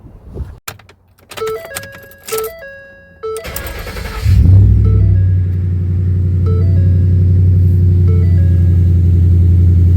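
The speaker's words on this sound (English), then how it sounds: "now we're going to walk around this big old truck and get inside and fire it up" A few electronic chimes and clicks, then a big truck's engine cranks and starts, settling into a loud, steady low idle rumble with periodic chime tones; tire pressure sensors need replacing.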